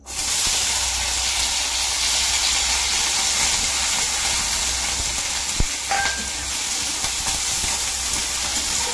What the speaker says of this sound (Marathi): तेल गरम झाले की आपण त्याच्यात बटाटा टाकणार आहोत।